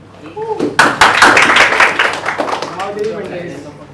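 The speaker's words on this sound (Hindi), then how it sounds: "ये प्रीत के लिए ताली बजा दो।" Students clap in a classroom for about two seconds, a short burst of hand claps in the middle while a teacher's voice speaks before and after.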